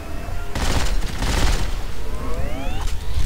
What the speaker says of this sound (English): That's the SMG, by the way. Ooh. Is it burst fire? Yep.